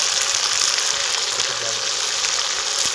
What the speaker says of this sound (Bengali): এর মধ্যে আদা রসুন পেস্ট দিয়ে দেবো